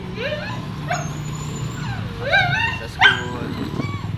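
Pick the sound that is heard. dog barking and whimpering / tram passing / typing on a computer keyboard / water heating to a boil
dog barking and whimpering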